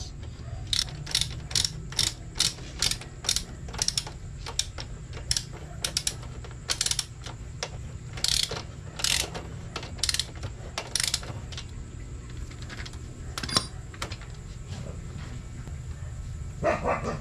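Ratchet clicking in quick bursts while tightening nuts on a Honda Winner X 150 motorcycle rearset, close and fairly loud over a steady low background hum, with short pauses between runs of clicks.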